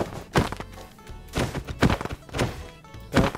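Repeated hits on a mob in Minecraft, a series of dull thunks landing roughly every half second or so, close and fairly loud, with a few sharper whacks mixed in.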